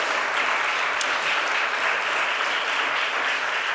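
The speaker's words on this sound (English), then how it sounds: "The round of applause for Rich and Amanda and the mayor" Crowd at a Domestic Workers Bill of Rights signing ceremony gives a round of applause, a full, continuous clapping roar at constant level with one sharp louder clap near the start.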